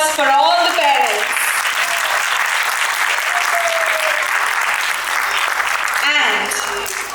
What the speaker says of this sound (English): One round of applause for all the parents.